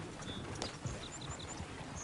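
Horses clip-clop in a console video game, a faint run of hoof beats at moderate distance under quiet ambient game sound, with no speech.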